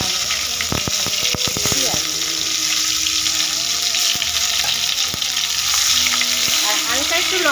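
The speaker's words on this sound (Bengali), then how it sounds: "আর এদিকে তেলটা গরম হয়ে গেছে" Tomatoes hit hot oil in a pan and give off a loud, steady, close sizzle that runs without a break, with a few sharp clicks early on.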